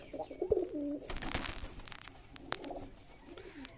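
Pigeons coo softly and close by in a few low, throaty phrases, with light rustling and background clatter between them.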